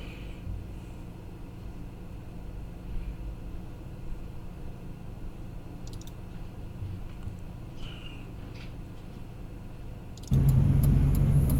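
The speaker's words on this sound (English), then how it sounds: "So Pam got in the car, and so now I am taking her to work." A car driving to work, heard from inside the cabin: a steady low engine and road rumble runs throughout, with a sudden much louder roar near the end.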